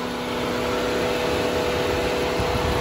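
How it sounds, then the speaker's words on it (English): Under the hood of a 2011-2020 Jeep Grand Cherokee warmed up during a coolant flush, the engine cooling fan roars in a loud, steady broadband whoosh with an even hum, constant and close throughout. "the fan kicked on. You guys can hear that in the background."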